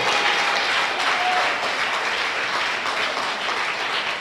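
A church congregation at a Sunday blessing service applauds steadily, a dense wash of clapping from many hands that holds at an even level throughout, with no distinct voice over it.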